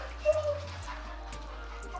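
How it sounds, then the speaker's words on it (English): Agitated dogs in a house whimper and let out high yips in short bursts over a low background hum. A faint voice can be heard nearby. "The dogs are freaking out."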